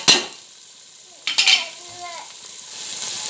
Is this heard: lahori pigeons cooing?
no